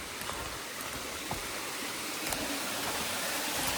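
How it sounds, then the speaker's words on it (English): A creek running through a forest block and dropping over a small waterfall of about 10 to 15 feet, heard as a steady, faint rushing wash of water with a few light clicks and no talking. "there's a bit of a waterfall down there."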